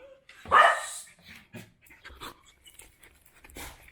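A dog pants in quick breaths close by and gives a short bark, with a few soft sounds around it and no talk.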